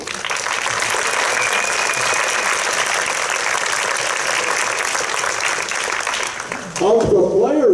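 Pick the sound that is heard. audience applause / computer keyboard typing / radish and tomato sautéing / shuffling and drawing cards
audience applause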